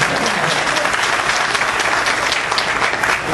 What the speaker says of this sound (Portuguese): um aplauso aqui para o meu amigo